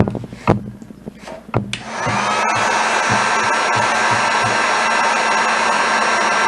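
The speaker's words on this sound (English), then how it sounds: "grab your heat gun" A heat gun blows steadily and loudly, shrinking heat-shrink tubing over a wire label on a race car wiring harness, after a few sharp handling knocks at the start; the hiss and hum run continuously to the end.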